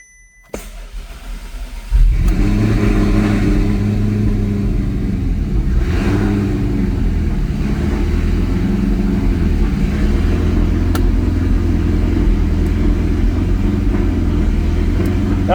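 A salvaged Audi supercar's engine cranks and fires after a brief quiet start, then settles into a loud, steady, close idle with deep rumbling and occasional light revs, no talk over it.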